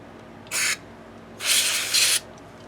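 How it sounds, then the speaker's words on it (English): Two bursts of quick-drying electronic contact cleaner sprayed onto the electronics of an Ibanez S-Series guitar, a short hiss followed by a longer one with a slight swell, fairly close, with no talking. "take some quick drying formula electronic cleaner and give these guys a little hit"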